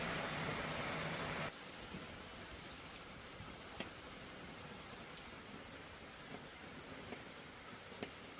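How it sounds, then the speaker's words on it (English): Sage leaves frying in hot oil for a pumpkin pasta dish, giving a steady close crackling sizzle with scattered small pops and no talk. "The sizzling sound of the leaves frying is the final touch"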